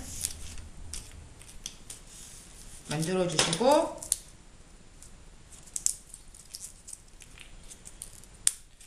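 Scissors snip through a piece of foam board in a quick run of crisp cuts lasting about a second, close and clear, with someone speaking softly around it.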